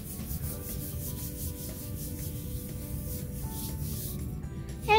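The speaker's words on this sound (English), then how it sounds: "Knuckle rub." Steady rubbing of a knuckle over folded paper for a bumble bee squish print, a close, continuous dry scuffing with rhythmic strokes and a brief louder rustle at the end, no talk.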